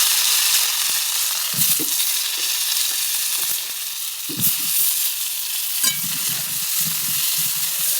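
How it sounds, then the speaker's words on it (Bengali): Pointed gourd frying in a pan of reused oil, a steady hiss of sizzling broken by intermittent stirring scrapes and clatters, close and fairly loud with no talking. "পটলটাকে ভালো করে ভেজে নেব"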